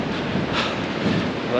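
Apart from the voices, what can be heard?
strong gusts of wind during a run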